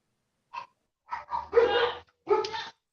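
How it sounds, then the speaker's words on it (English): A pet dog barks in a few short bursts, one brief yip followed by louder, fuller barks close by, with quiet gaps between them. "I apologize if you can hear my dog."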